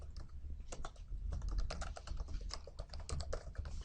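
An email address is typed on a computer keyboard in quick, close, continuous tapping, key clicks coming in a steady rapid patter over a low hum.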